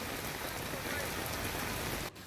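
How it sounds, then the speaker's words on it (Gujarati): Heavy monsoon rain pours steadily over town and village areas in Gujarat, a dense, continuous hiss of drops striking surfaces that holds at full strength before dipping briefly near the end. "ધોધમાર વરસાદ વરસતા"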